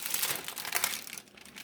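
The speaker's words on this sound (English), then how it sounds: "just bend it over, and it starts cracking" Dried homemade broth snapping and crackling like glass as parchment paper is bent, a dense run of crisp, brittle crinkles that thins out toward the end.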